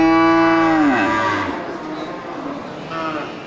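Young cattle crossbred from Simmental and Aceh breeds give a loud, close moo that falls in pitch and fades, followed by a second, quieter lowing call.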